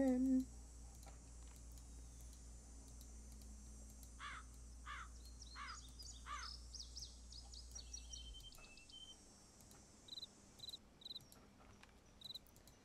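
A few short, bright bird calls sound in repeated bursts over a steady chorus of crickets and insects in the video game Nancy Drew: Ghost Dogs of Moon Lake, fairly faint within a quiet outdoor ambience.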